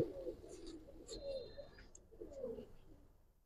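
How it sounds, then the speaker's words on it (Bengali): Racer pigeons cooing up close, soft low throaty coos in a few rounded phrases over about three seconds, with faint higher chirps behind and no talking. "অনেক ভালো কবুতর দুইটা"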